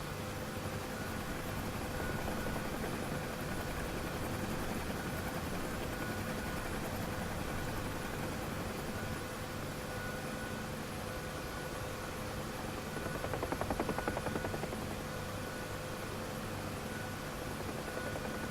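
UH-1 Huey helicopter in the DCS flight simulator, heard as a steady, continuous rotor and turbine drone with a constant whine, holding at even loudness throughout with no talk.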